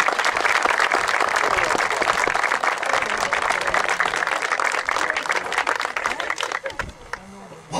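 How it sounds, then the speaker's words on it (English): An audience claps loudly and continuously for a speaker's introduction, a dense wash of many hands that holds steady, then thins and tapers off near the end. "Give him a long clap for his introduction."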